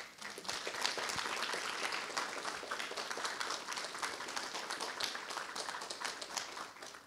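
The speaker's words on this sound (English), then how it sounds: "let's all put our hands together for Puja Swamiji." Sustained audience applause fills an auditorium with dense, steady clapping from many hands, moderately loud and continuous for the whole stretch.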